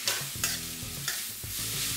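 Spatula stirring stir-fried cabbage with glass noodles and minced pork in a hot pan, seasoned with soy sauces, pepper and sugar: repeated scraping strokes about every half second over a steady low sizzle, close and clear with no talk.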